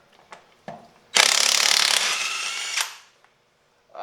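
A DeWalt 20V impact wrench loosens a 5/8 nut, giving one loud burst of hammering and rattling that lasts under two seconds, with a few small clicks and handling knocks around it.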